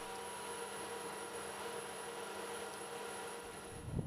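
A KAI Surion military helicopter runs in a steady, broadband rotor and turbine roar with a thin high whine on top, continuous and fairly distant, with no voices over it.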